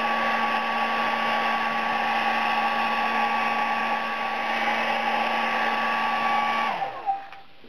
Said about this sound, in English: Spray the device in a fanning motion with a hairdryer. I just set it to the low setting and start fanning it.